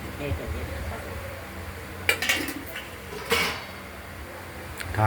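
A metal lid clanks onto a kadai in which pabda fish is cooking with potato, tomato and ground spice paste. Two sharp clatters stand out over a low background of kitchen noise, and a voice can be heard now and then.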